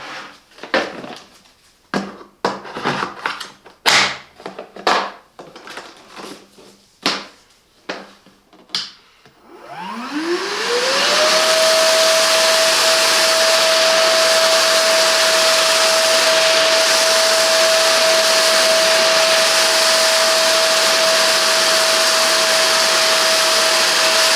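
A Hychika 18V cordless wet and dry vacuum with blower starts up with a rising whine and then runs at a loud, steady drone while sucking up a pile of wood chips, after a few scattered knocks and clicks.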